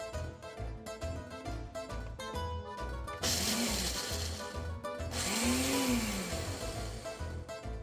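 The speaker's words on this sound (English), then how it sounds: "I am going to put my meat into the blender and pulse it a couple times and get it smaller" Dried meat nuggets pulsed in a blender, with two bursts of loud grinding whir a couple of seconds each, set over steady background music.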